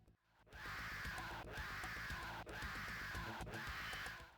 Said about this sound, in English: the Allosaurus has this cheetah roar that also sounds kind of annoying